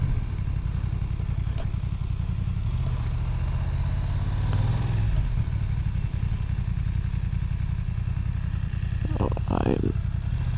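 A BMW M1000R motorcycle idles nearby with a low, steady engine rumble that runs throughout, with a few light clatters over it and brief speech.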